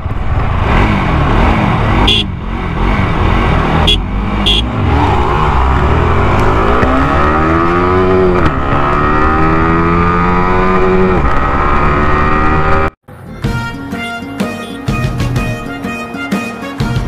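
Bajaj NS200 and Yamaha R15M motorcycles in a drag race, their engines loud and close, revving hard and climbing through the gears with a rising whine before an abrupt cut, then rough, busy engine noise.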